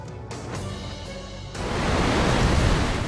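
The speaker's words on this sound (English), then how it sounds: "Waves as high as 7 meters pounded homes and businesses on Chile's coastline." Heavy surf pounds the Chilean coastline, a broad roaring wash that swells louder midway and holds as a steady, close rumble with no voices.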